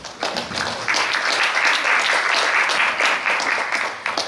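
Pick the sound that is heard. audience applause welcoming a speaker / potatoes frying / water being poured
audience applause welcoming a speaker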